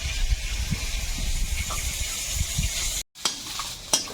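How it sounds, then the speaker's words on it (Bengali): Pond-caught fish sizzles steadily in hot oil with soft crackles and scraping stirs, a brief cut, then more sizzling with sharp spatters. "মাছ ভাজা হয়ে গেছে উঠিয়ে নিচ্ছি তেলের মধ্যে একটু গোটা জিরে আর পেঁয়াজ কুচি দেবো"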